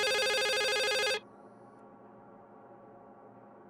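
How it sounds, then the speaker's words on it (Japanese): A telephone rings loudly and electronically in the video game The Suicide of Rachel Foster, with a steady harmonic tone for about a second before cutting off into quiet room ambience, then starting again at the very end. "電話が鳴ってるよ。"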